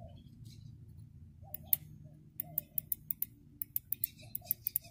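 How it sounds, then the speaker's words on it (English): The TipTronic shift contact of an Infiniti G35 sedan gives a rapid series of sharp, light clicks as it is pressed, close and distinct over faint low background hum. "Hopefully I hear a clicking noise."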